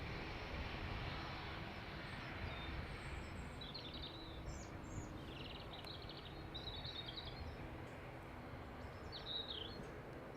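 An Airbus A321XLR airliner arrives at Dublin Airport, a distant, steady jet rumble heard through open air while birds chirp in the foreground.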